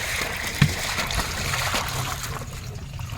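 Dried fish is rinsed by hand in water, giving continuous close splashing and sloshing with small trickles and one sharper splash.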